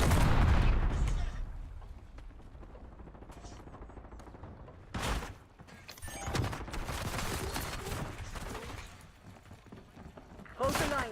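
Heavy sniper rifle shots in a military shooter video game, several loud, sharp cracks spaced seconds apart over low battle rumble and clatter, with voices talking in between.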